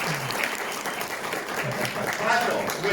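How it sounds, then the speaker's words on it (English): A comic expo crowd gives a round of applause, a moderately quiet patter of clapping with voices murmuring and calling out through it. "Round of applause for Marshall"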